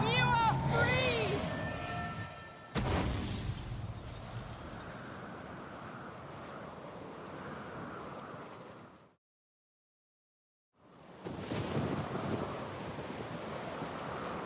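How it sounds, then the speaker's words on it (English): Storm in The Witcher 3, with gusting wind and rumbling surf-like roar carried over game sounds, loud at first, then easing, dropping to silence and returning, while characters speak over parts of it. "Storm's over."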